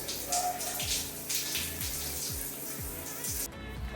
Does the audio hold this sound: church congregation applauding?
no